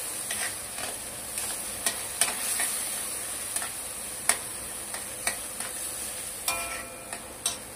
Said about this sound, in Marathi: 2 मिनिटं त्याला चांगले परतून द्या त्यामध्ये वाटणामध्ये।